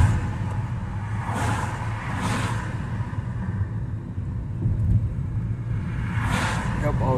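Cars driving on the Kent Island to Annapolis bridge make a constant near road rumble, with a few passing whooshes rising and fading above the drone; voices are present.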